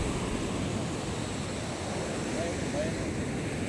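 Sea waves wash steadily on the beach of Baluti Island, a constant rushing surf mixed with wind buffeting the microphone and faint voices in the background.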